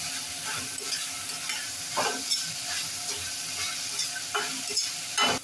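Onions frying with salt in a pan for upma, a constant sizzle broken by a few scraping stirs, close by and moderately loud, with no talking.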